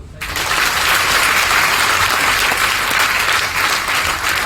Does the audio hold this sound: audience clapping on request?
yes